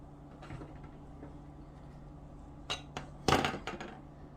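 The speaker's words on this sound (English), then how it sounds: "Now I'm going to get my pan over here." Frying pan fetched from a kitchen cupboard, a few faint knocks and a louder metallic clatter near the end against a low steady hum.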